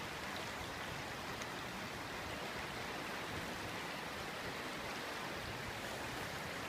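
Swollen winter river carrying floating debris rushes steadily by, a dense, even hiss of flowing water, constant and fairly soft, with no voices.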